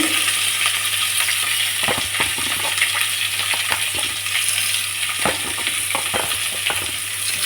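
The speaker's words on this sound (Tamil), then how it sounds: "வெங்காயம் வதங்கிட்டு இருக்கு" Onion sautéing with curry leaves in a pan for a potato and peas white kurma, a loud steady sizzle with scattered stirring scrapes and clinks running throughout, close up and with no talk.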